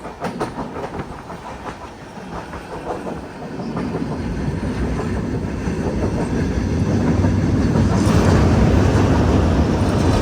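An LHB passenger train of Konkan Railway rolls along near Thivim in North Goa, its steady rumble and rhythmic clickety-clack holding throughout and swelling louder toward the end, with no voices.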